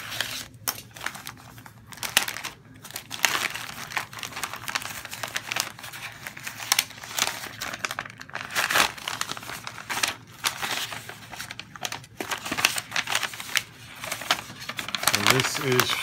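A paper envelope holding action figures is torn open and handled, with loud, close crinkling, tearing and rustling in irregular bursts throughout, and someone talking now and then.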